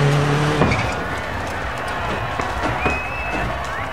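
A rally car in the Dirt 4 racing game drives with a loud, steady engine roar and gravel rumble, the revs shifting through gear changes.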